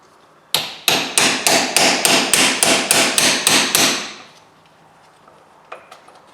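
About eleven sharp, evenly spaced metal hammer blows strike a socket to drive a part out of a cast motor frame, loud and close, then stop, followed by faint clinks.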